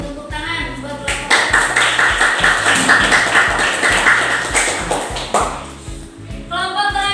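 Applause from a classroom audience of teachers in training, welcoming the presenting group: a steady patter of many hands clapping, loud and close, rising after the first second and thinning out near the end, with a few voices mixed in.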